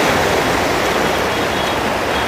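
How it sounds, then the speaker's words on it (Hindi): Canal water from Sharda Sagar gushes under a bridge, a loud, steady broadband roar of rushing, churning water heard alone without pause. "आप लोगों को आवाज़ आ रही होगी पानी की, देखिए कितना उबाल आ रहा है पानी में"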